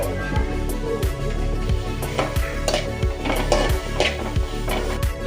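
Grated radish frying in a little oil in a pan, a steady sizzle close by, broken by repeated sharp clinks and scrapes of a utensil against the pan at an uneven pace.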